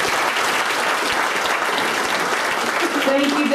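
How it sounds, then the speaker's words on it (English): A coach-of-the-year awards panel audience breaks into dense, loud applause, many hands clapping steadily throughout, with a voice briefly rising over it near the end. "A big round of applause for David."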